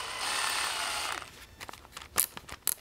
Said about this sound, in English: let's go ahead and just drill straight in